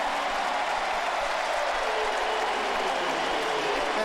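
Stadium crowd at a 2006 NFL game between the Dallas Cowboys and Atlanta Falcons cheering and applauding near the end of the half, a dense, steady roar that fills the whole stretch without a break.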